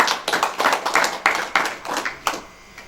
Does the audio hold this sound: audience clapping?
yes